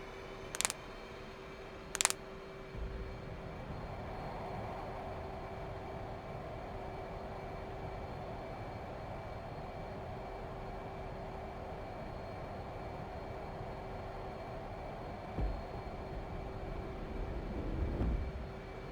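A jet aircraft in DCS World taxis across a carrier deck toward catapults 2 and 3, its engines giving a steady, even drone throughout, with two sharp clicks near the start.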